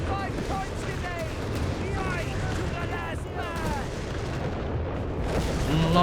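Artillery in a Company of Heroes 3 battle, with a busy wash of distant booms and gunfire rolling continuously, whistling shell sounds over the top and a voice talking throughout.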